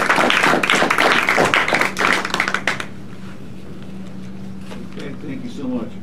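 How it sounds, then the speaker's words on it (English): Brief applause at a Lycoming County commissioners meeting. A short burst of clapping lasts about three seconds and then stops, leaving quiet room tone with faint talk. "Let's give them a round of applause."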